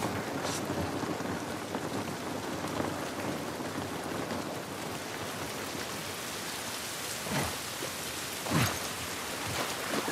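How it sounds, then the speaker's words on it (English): Steady rain pours through an outdoor scene in the video game The Last of Us Part 1, with a few sharp thunder cracks rising near the end, loud and close over a constant hiss; no talking. "This rain ain't gonna do us any good."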